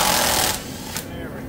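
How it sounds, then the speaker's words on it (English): A tool removes a 10mm bolt from the cradle of a C5 Corvette with an LS6 engine: a loud half-second mechanical burst, then quieter rattling workshop noise. "Take that 10mm nut or 10mm bolt out there."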